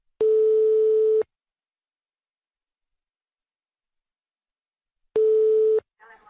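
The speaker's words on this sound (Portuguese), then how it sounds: "Telefone" A telephone ringback tone plays during a prank call, a loud steady beep about a second long. It is followed by a long silence and then a second beep, with faint sound just after.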